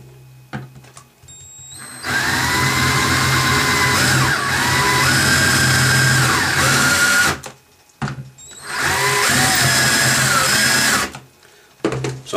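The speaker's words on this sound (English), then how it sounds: "So let me start with trying to drill one of these out here." A power drill bores into a Lennox Pulse21 furnace controller board in two long, loud whining runs separated by a brief stop, each starting and ending abruptly with steady motor pitch.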